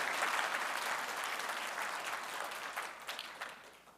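Audience at a Python programming conference talk clapping at its close, a sustained burst of applause that slowly thins out over a few seconds.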